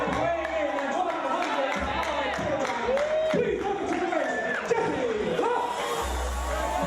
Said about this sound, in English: the ovation for Jesse Love